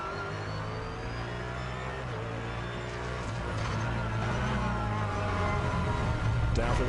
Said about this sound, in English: Down through the gears, sets the car up, and now back on the power. Just listen to that noise.